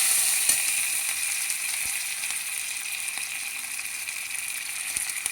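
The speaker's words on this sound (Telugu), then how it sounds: "తాళింపు వేసేస్తున్నాను" Tempering spices (talimpu) sizzle in hot oil in a home kitchen, a steady bright hiss with scattered small crackles and pops, close and continuous.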